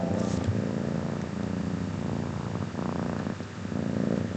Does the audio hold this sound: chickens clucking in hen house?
no